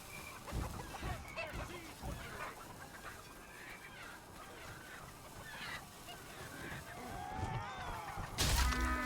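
Fire chickens in Chivalry 2 clucking and squawking amid battle noise, with repeated fowl calls over a busy, clattering melee background, ending in a loud crash.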